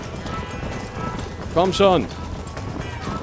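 A horse gallops with clip-clop hoofbeats in the Red Dead Redemption video game during a race, running steadily under a voice speaking German, with a brief neigh-like burst in the middle.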